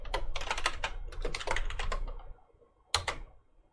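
Someone types on a computer keyboard in a terminal to stop a running Java loop program with CTRL-C. A busy run of close, clicky keystrokes stops briefly, then a couple of sharp final key presses follow.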